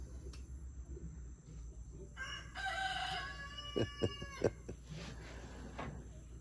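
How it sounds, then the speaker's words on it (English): A rooster crows once in a long, strained call, followed by a few sharp clicking knocks over a steady low hum of a fan. "that rooster's over there making a lot of noise"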